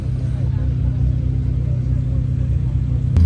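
A car engine rumbles steadily at low pitch from inside the vehicle in New York City, a constant drone as it pulls away from a parking spot, with a brief click near the end.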